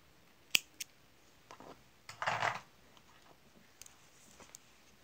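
Scissors snip through knitting yarn at the toe of a hand-knit sock, giving a few brief, crisp close-up cuts, with one louder rustling snip in the middle and quiet pauses between.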